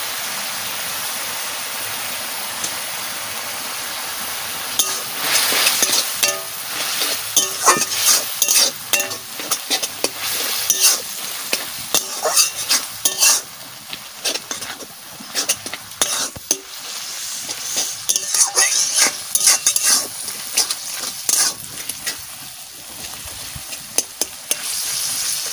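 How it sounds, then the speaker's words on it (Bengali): Leafy greens with shrimp stirred and fried in a pan, a continuous sizzle punctuated by scraping and clattering spatula strokes, close and busy, with no voices. "শাকের ভিতরে আমি চিংড়ি মাছ দিয়ে দিলাম।"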